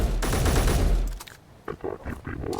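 Robot enemies firing in the Space Engineers video game, a loud burst of rapid gunfire for about a second, followed by quieter scattered clanks and grunts.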